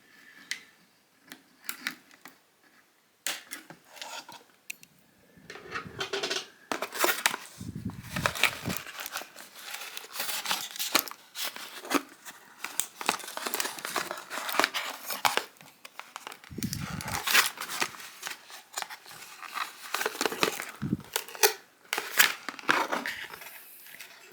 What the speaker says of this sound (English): So now let's cut this figure loose.